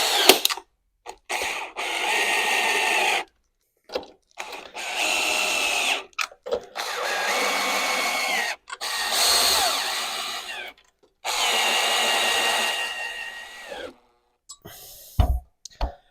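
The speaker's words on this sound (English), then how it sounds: "We're then using 10mm nylock nuts, tightening them down." Power tool spinning 10mm nylock nuts down onto bolts with penny washers, in repeated bursts of a couple of seconds each, separated by short pauses, loud and close with a whirring, ratcheting tone.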